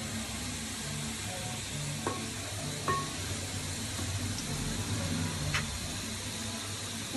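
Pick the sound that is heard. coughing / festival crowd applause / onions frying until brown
onions frying until brown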